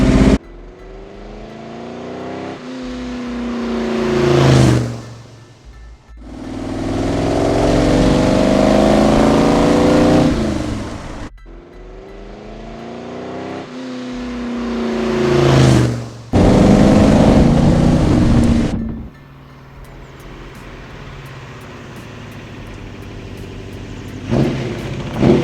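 A 427 Cobra replica sports car's V8 roars through repeated hard revs and gear changes, swelling and dropping in long surges, then settles to a loud, throbbing idle with a final blip, no voices.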